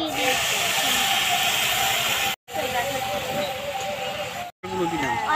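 Onion paste thinned with water sizzling loudly in hot oil, a continuous close hiss broken by two short gaps, with a voice faintly underneath.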